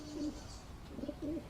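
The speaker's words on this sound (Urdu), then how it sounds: "ابا کبوتر ہے." A pigeon gives soft, low cooing calls, a short coo and then two more after a pause, faint against a quiet background, with no voices.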